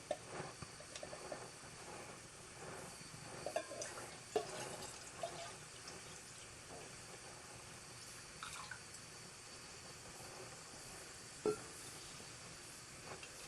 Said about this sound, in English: We're going to put 2 cups of water in here.